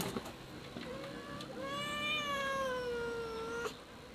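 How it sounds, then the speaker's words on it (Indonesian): A cat meows one long, drawn-out call with a rising and falling, slightly wailing tone, close and clear. It comes after a few faint background noises, with no one speaking over it. "Nah, itu dia kucingnya."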